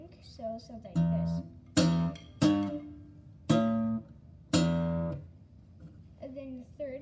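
Five separate electric guitar strums ring out one after another at a moderate pace, each decaying before the next, with brief talking at the start and end.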